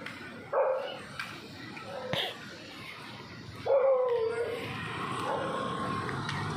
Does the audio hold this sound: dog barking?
yes